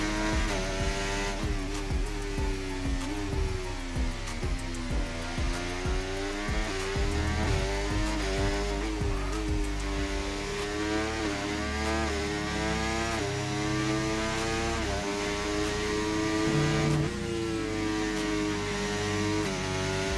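An F1 24 race car roars continuously through a career-mode lap of the Belgian Grand Prix. The loud, close engine climbs and drops in pitch through repeated upshifts and downshifts for the whole stretch.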